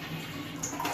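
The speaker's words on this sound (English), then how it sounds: "And we're gonna flush it." Water rushes steadily from a household toilet being flushed during a plumbing check, close and continuous for a brief moment.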